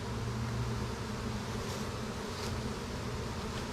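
Dense crowds of honey bees on a lifted hive frame drone in a continuous low, close buzz, steady and unbroken with no voices.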